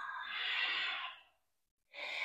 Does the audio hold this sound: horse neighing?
no